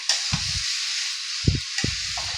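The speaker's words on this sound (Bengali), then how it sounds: "সয়াবিনটা আবার দিয়ে ভালো করে কষিয়ে নিতে হবে" Soybean chunks fry in a pan with a steady high hiss of sizzling, broken by three short bursts of stirring and scraping, close and fairly loud, with no voice.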